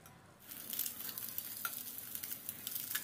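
Fried vegetables tossed into a pan with scrambled egg for chicken fried rice give a faint, steady sizzle with soft scraping stirs, heard alone without talk.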